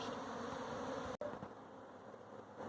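A dense, steady drone of many bees buzzing close by, with one brief dropout partway through.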